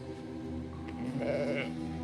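Sheep bleating inside a Russian folklore horror video game, a fairly close, sustained bleat rising over a steady droning game ambience, alone without talk.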